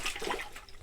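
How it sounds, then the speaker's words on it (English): Water sloshes in a laundry bucket as a plunger works the wash in an off-grid tiny house, a brief burst of soft, close splashing and gurgling with no talk. "splashing the water for the laundry in her bucket and plunger"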